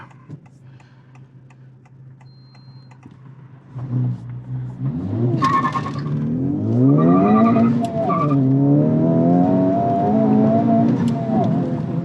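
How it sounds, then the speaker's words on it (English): A Honda Civic Type R, front-wheel drive, launches hard from a standstill on a downhill grade, its engine revving up loud and close through the gears with a brief chirp of wheel hop at the start. "let's do a quick little 0 to 60 kind of"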